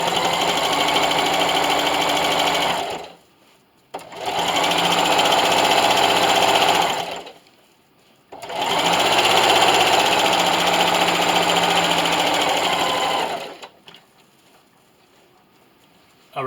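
A home sewing machine at a 3.5 stitch length drives through thick layers of a hot jar canning mitt in three loud, close bursts of fast stitching, a few seconds each, with short silent pauses between them.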